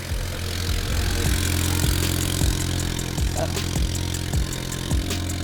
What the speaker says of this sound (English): the car is leaking boost and has an exhaust leak